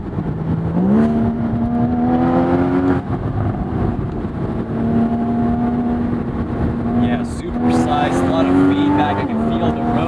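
Porsche Boxster GTS engine droning steadily from inside the car while driving, pitch climbing under throttle then holding, with someone talking over it throughout.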